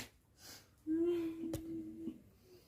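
A dying man's throat gives a rasping, tonal snore-like wheeze, with a sharp snort mid-breath and fainter gasping around it, heard close up.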